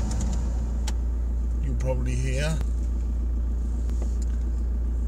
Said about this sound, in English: I'm warming the car up at the moment,